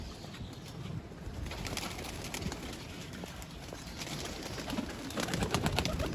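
Pigeons kept by a fancier, soft cooing and rustling close by, with faint bird chirps and a few wing flaps over steady background noise, and no talking.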